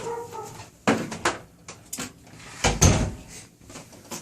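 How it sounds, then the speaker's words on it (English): Indoors at home a dog fusses with short whimpers and scrabbling, followed by several sharp knocks and a loud thump of a door being shut nearby, all in separate bursts. "my dog's having a conniption. I'll just shut the door."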